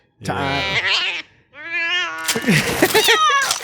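A cat from an episode of Star Trek: Lower Decks yowls and meows wildly in two loud, drawn-out caterwauling bursts with a short pause between, close and unbroken, followed by noisier, chaotic vocal cries.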